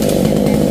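A chainsaw runs loud and close, cutting into a coconut tree trunk that lies against a wall, its engine holding a steady, buzzing whine through the brief moment.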